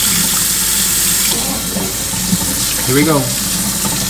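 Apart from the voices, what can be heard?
water running from a sink tap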